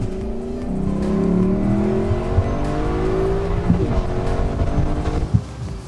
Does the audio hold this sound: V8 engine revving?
yes